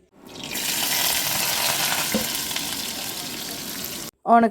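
Loud, steady sizzling of onions sautéing in hot coconut oil fills the clip, then cuts off abruptly before a brief clatter at the end.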